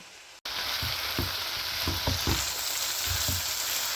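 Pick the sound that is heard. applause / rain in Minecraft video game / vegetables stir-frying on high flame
vegetables stir-frying on high flame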